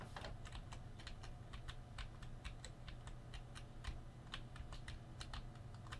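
Keys clack on a computer keyboard in quick, uneven bursts of close, crisp taps, quiet overall over a faint steady hum, with no voices.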